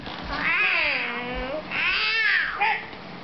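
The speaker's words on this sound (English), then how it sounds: "Oh God, the cats. They're everywhere." Cats meow in two drawn-out, rising-and-falling cries close to the microphone, followed by a short third mew, loud and clear with no talking.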